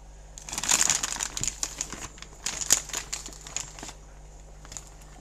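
A plastic fish bag crinkles and rustles as it is set on top of an aquarium hose, in two close bursts of irregular crackling over a steady low hum and a faint high whine.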